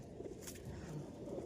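Pigeons coo among the traders at the Beldanga market, soft repeated low calls sitting under a steady wash of crowd and market noise.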